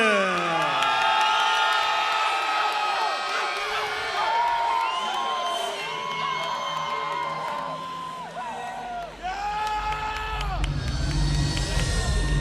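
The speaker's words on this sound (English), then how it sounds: "Nadir Merchant, the crowd is behind him." At a charity boxing event in Miami Beach, a crowd cheers and whoops as a fighter enters the ring, a loud, sustained roar with shouting voices throughout.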